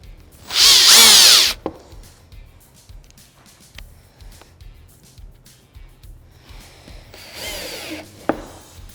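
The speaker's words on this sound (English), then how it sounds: "we're going to grab our self-tapping snaps. We're just going to thread them in right to the center of our marks." A power drill drives self-tapping snaps into a SuperATV Primal Soft Cab Enclosure on a Polaris RZR XP1000, with two short whirring bursts separated by quiet clicks and handling noises.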